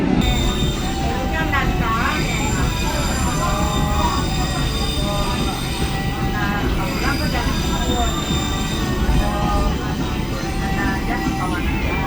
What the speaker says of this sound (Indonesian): kereta api Lembah Anai telah diberangkatkan dari shelter stasiun Sicincin